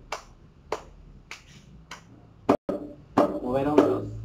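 Hands clap in a steady beat of about five evenly spaced claps during a music lesson with a student, followed by voices talking.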